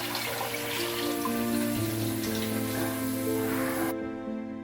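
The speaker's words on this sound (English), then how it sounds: "Then add 7 1/3 cups of water to a pan on the stove on medium high." Water runs steadily from a tap into a pan on the stove, a continuous close pouring rush that fills the space and stops sharply near the end.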